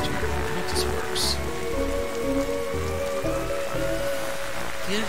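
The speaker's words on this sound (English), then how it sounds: "That storm looks like it's getting nastier" Steady rain patters through a stormy night scene in the video game The Darkside Detective, with a constant wash of drops over low rhythmic game music and a few brief higher tones.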